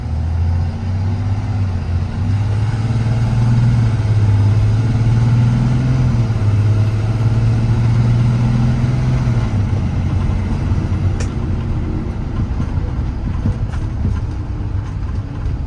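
2019 Kenworth T270 truck with a PX7 engine driving down the road, a loud steady low drone heard from inside the cab, with pitch shifts as it moves through the gears.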